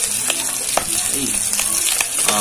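Garlic browning in a pan with bay leaves and peppercorns, a dense close sizzle broken by repeated clicks and scrapes of stirring, loud and continuous.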